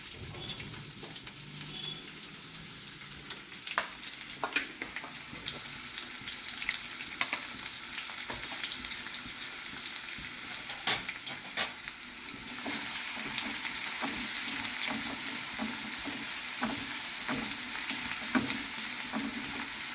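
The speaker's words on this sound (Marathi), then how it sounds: "कांदा टाकणार आहोत" Onion frying for a traditional Saraswat Goan prawn rice, a continuous crackling sizzle with sharp pops and stirring that grows fuller and louder midway through; no voices.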